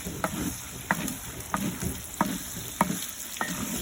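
Jambalaya is stirred in a pot, with a steady sizzle under regular scraping knocks of the spoon about every half second, close and alone.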